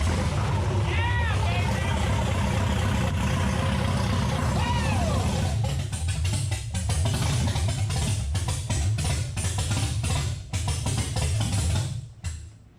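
A Datsun fitted with a swapped LS V8 runs loud and close in a heavy, continuous roar for several seconds, then cuts out abruptly as the fuel runs out.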